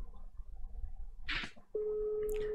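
A steady, unbroken telephone tone starts partway through a call and holds alone to the end, after a moment of soft shuffling and a brief rustle.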